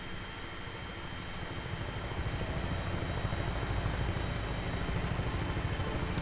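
A Vertibird from Fallout 4 flies on final approach to an airport, its rotor and engine drone a steady close roar that slowly swells louder, with no talking.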